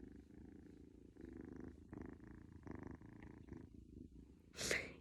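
A cat purrs close up in a soft, rhythmic rumble with breathing pulses, ending in a brief louder rustle.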